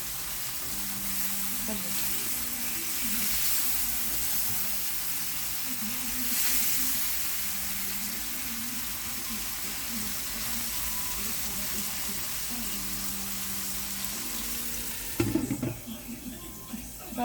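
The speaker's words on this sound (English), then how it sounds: "Frying." A red pea cook-up fries and sizzles in a pot, a steady hiss with occasional stirring scrapes, ending in a few louder clatters.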